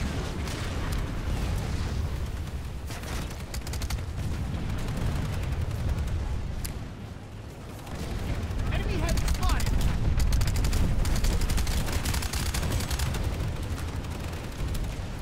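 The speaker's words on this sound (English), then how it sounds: "it's a great opportunity to make a shot with the grenade launcher" Dense gunfire and grenade launcher explosions in the Planetside 2 shooter, a continuous loud barrage of shots and blasts with a brief dip midway before the combat swells again.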